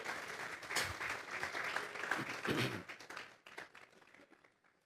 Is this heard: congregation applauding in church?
yes